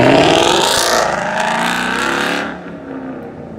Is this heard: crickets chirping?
no